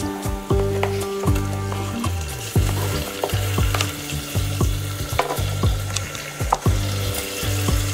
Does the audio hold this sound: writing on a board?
no